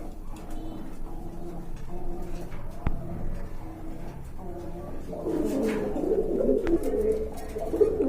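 Pigeons in a loft, including a large pair of racing pigeons, coo in low repeated phrases that grow louder and busier toward the end, with a brief sharp knock partway through.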